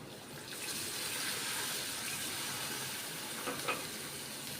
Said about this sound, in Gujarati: ત્યારબાદ આપણે પાણી એડ કરશું